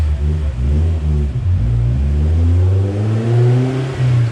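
A car engine on a Mustang chassis dyno revving loud and close, rising steadily in pitch with a brief dip around the middle before climbing again, a continuous roar with no talk.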